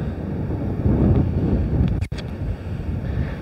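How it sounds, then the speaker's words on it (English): Coastal sea waves churn on a windy shoreline, a loud rumbling wash heavily mixed with wind buffeting the microphone, briefly interrupted by a sharp handling click. "There are some impressive waves out there."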